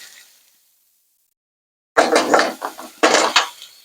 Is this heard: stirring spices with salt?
yes